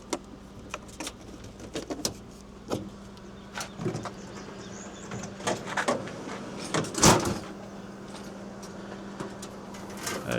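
The door to the outdoor kitchen on an Intech Explore camper opens with a series of soft clicks, latch taps and rattles spread across quiet outdoor ambience, with one louder clunk midway.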